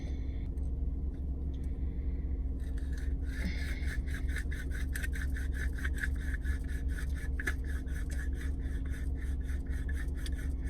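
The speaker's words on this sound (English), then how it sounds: "let me grind this up" Herb being ground in a hand grinder, a rapid rhythmic scratchy rasping starting a few seconds in and continuing steadily, close over a constant low background rumble.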